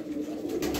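Close, low cooing from filo pigeons, a domestic breed in patterned and olive varieties, heard as a steady throaty hum that swells near the end, with no talking.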